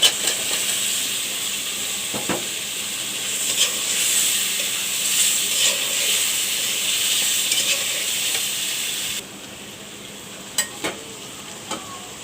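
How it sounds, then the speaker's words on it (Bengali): Pointed gourd frying with spices in a pan, giving a loud, continuous sizzle and hiss with occasional stirring clinks. The sizzle then drops slightly quieter but keeps going. "এবার আমি এখানে পটলগুলো দিয়ে দেব।"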